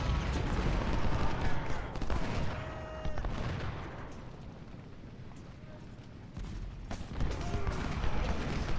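Cannon fire from 24-pounder guns in the Civil War strategy game Ultimate General: Civil War, heavy booming blasts and rumbling battle noise that swell, ease off in the middle, then return.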